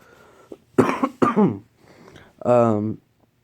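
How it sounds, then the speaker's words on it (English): A few close, throaty coughs and a throat clear, followed by a short voiced groan. "still coughing"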